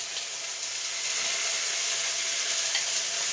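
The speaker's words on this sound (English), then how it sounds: "You can hear all the ingredients starting to cook" Halloumi and vegetables sizzle steadily in a hot pan, a constant crackling hiss that grows slightly louder after a moment, with no voices.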